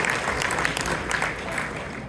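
A crowd at a community organization's anniversary gathering applauds with steady, dense clapping that holds at an even level throughout.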